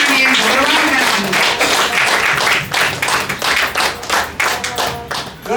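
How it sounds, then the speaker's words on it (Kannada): An audience at an International Women's Day 2025 event applauding, dense rapid clapping that swells and fades in waves with voices mixed in, fairly loud and close. "ಚಪ್ಪಾಳೆ"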